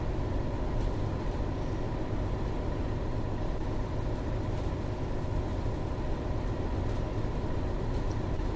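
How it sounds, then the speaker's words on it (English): A Train Sim World 3 train runs along with a steady, continuous engine drone and rolling rail rumble, close and even throughout with no talk. "train motors along"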